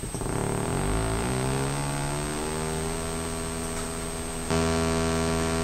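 A PSPSeq synthesizer sustains a looping note, a steady buzzy harmonic tone with a sweeping glide early on, then jumps to a brighter, slightly louder repeat near the end.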